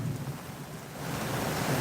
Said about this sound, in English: It's raining, guys. I'm telling you right now.